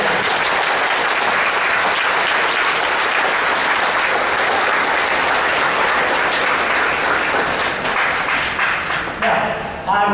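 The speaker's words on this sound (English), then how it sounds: "So if you could please give them their first round of applause." Loud, dense audience applause in bleachers for a sixth grade beginning band, a sustained wash of many hands clapping close by that thins slightly near the end.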